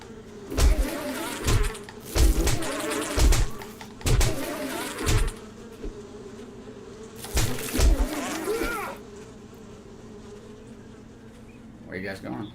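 Bees buzz in a video game in loud, repeated swells that rise and fade, with a softer steady drone between them.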